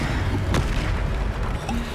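A Bombarda explosion spell goes off in the video game Hogwarts Legacy, one deep booming blast within dense, rumbling game noise.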